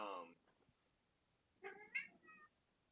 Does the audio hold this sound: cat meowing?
yes